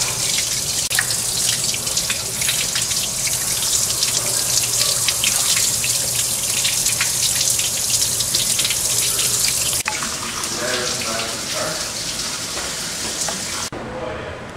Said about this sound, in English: I'll let that flush for a minute.